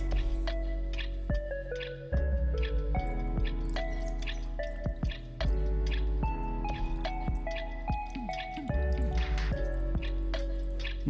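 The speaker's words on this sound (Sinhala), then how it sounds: "අපි මේක පෙරා ගන්න ඕනි මොකක් හරි භාජනයකට ස්ට්‍රේනර් එකකින්" Liquid for Bombay muscat, a flour-based sweet, drips through a strainer into a bowl; close, irregular drips and wet squishing sounds repeat across the clip with no talking.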